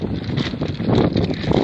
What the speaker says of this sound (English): It's quite windy on here.